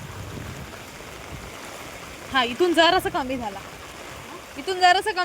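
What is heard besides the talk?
rainwater flowing on a rainy day in Alibag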